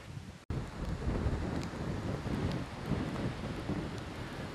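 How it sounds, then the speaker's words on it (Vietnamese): Wind gusts blowing steadily across a mountainside with rain falling, a continuous broadband roar with buffeting low rumble and no voices. "Trời chuyển gió khi chúng tôi lên cao dần. Mưa bắt đầu rơi rồi lại tạnh."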